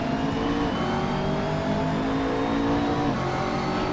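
McLaren 650S GT3 race car in Assetto Corsa at Zandvoort, engine revving hard at the race start, a steady loud mid-pitched roar with rising tones and a gear shift, alone without talk.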